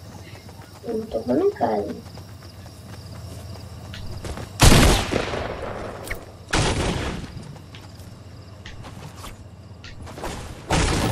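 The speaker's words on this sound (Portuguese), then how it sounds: "tem alguém atirando" Gunfire in the Fortnite battle royale video game: a few sharp, loud shots spaced seconds apart, each with a short, ringing tail, while players chat over the game's sound.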